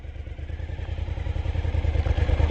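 A motorcycle engine on the freeway heard from the saddle, a low rhythmic throbbing rumble that swells gradually louder as it pulls, close and steady with wind noise.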